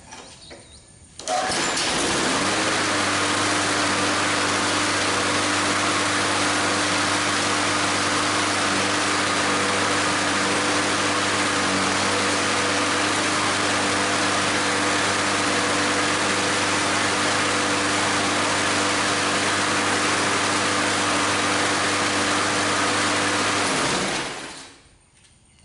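A Briggs and Stratton engine on a Craftsman walk-behind mower, left sitting unused for five or six years, fires up after a brief start. It runs at a steady, loud drone up close, holding even throughout before cutting off at the end.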